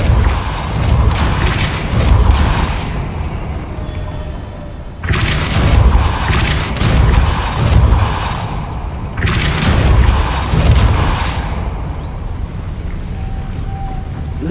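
The Depulso force spell in Hogwarts Legacy lands as three heavy, rumbling booms, each a deep blast that fades into the game's ambient sound.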